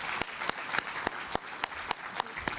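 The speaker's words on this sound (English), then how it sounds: "Please, let's give another round of applause." Conference audience applauding a speaker after his presentation, steady clapping in a hall with a few sharp individual claps standing out in a regular rhythm over a softer crowd of hands.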